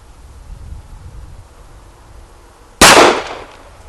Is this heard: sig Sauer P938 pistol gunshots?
yes